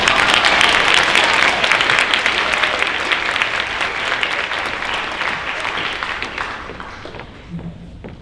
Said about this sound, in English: Let's give them all one more round of applause.